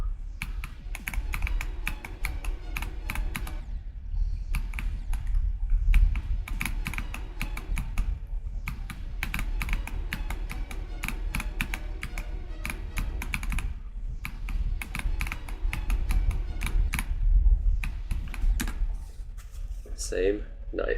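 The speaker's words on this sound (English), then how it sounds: "What keyboard do I use? I use a Wooting ADHE." Rapid typing clatters on a Wooting computer keyboard in bursts with brief pauses, near and continuous, while a voice talks over it.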